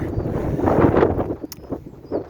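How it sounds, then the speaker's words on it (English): A breezy wind blows across an outdoor garden plot where young fruit trees are being planted, giving a steady rushing buffet with microphone rumble and faint background sounds. "It's quite breezy, as you can hear"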